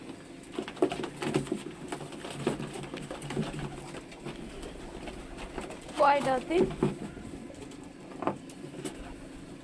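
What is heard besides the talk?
wild pigeons cooing in a box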